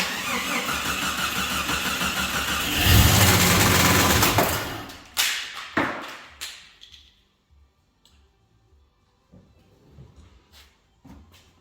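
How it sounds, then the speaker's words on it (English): A Jeep engine in a speed shop, just fitted with new steering parts, fires up with a loud, close burst that roars for a few seconds, then cuts off into quiet with scattered clanks and faint shuffling. "I'm actually gonna fire it up right now and leak check everything"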